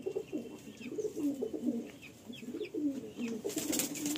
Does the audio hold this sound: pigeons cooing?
yes